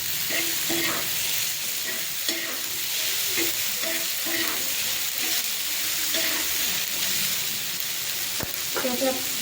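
Tomato chutney being mixed with salt in a hot pan, a continuous sizzle with repeated spoon scrapes and taps against the pan, close and steady with no talking.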